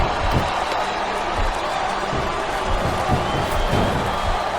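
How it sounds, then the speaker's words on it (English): A capacity arena crowd in WWE SmackDown vs Raw 2007 roars steadily throughout a wrestling match. Periodic thuds or slams land over the continuous crowd noise, and there is some talk. "This capacity crowd is making their opinions known tonight."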